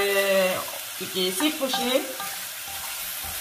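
Rice cakes and vegetables stir-fried for soupless seafood tteokbokki in a preheated pan, loud sizzling with scraping stirring strokes, someone talking over the frying at the start.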